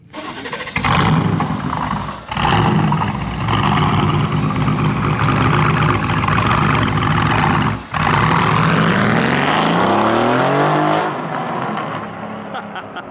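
An Audi R8 engine revs hard and loud close by in a sustained roar, broken by two brief dips like gear changes, then the pitch sweeps and fades as the car eases off; no voices are heard.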